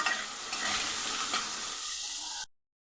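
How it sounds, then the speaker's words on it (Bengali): Cut potatoes sizzle in hot oil with turmeric and salt, a close, bright frying hiss with stirring that cuts off abruptly after a couple of seconds. "তেল গরম হয়ে গেছে, আগের থেকে কেটে ধুয়ে রাখা আলু দিয়ে দেব। এর মধ্যে দিয়ে দেব হলুদ আর নুন দিয়ে ভালো করে ভেজে নেব।"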